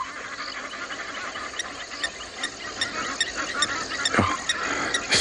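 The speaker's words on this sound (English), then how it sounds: "And if you listen to the left of us, my favorite bird, an African scop's owl going." Frogs, an African scops owl and geese calling together at a dam on a South African afternoon safari, a dense steady chorus of repeated croaks and chirps with a louder honk near the end.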